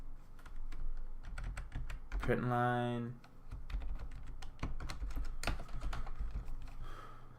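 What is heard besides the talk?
typing on a computer keyboard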